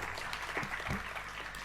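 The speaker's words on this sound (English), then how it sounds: "A round of applause for Prof." Brief, steady applause from an audience at a formal launch event, a soft, continuous patter of many hands clapping for Professor Siepe.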